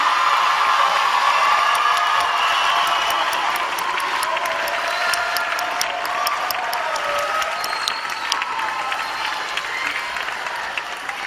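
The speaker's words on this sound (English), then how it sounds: "I think we have more applause than that, don't we, parents?" Parents in a crowd applaud at a Southland College Prep Class of 2019 graduation ceremony, sustained loud clapping with scattered whoops and cheers, holding steady and easing slightly toward the end.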